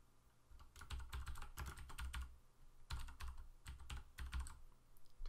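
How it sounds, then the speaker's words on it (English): Quiet, close typing on a computer keyboard while entering an application name in Android Studio, with rapid clustered keystrokes in two bursts separated by a short pause. "So for the application name, we're just going to type in,"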